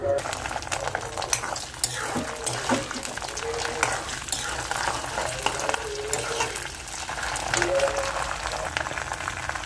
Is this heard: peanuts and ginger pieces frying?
yes